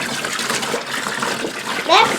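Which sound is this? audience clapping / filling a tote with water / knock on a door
filling a tote with water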